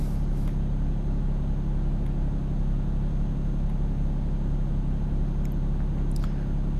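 Steady low truck-engine drone from Euro Truck Simulator 2 as the lorry labors uphill, a constant loud rumble with faint traffic noise over it and no talking.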